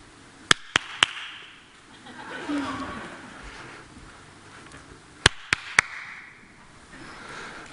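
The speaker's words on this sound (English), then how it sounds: "you have to point where you hear me clapping" A presenter at a science demonstration for an audience claps his hands in two quick sets of three sharp claps, a few seconds apart, over a faint room murmur.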